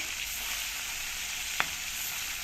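Puti fish fry in a pan with a steady, quiet sizzle throughout, and a single sharp clink or spatter stands out about two-thirds of the way in.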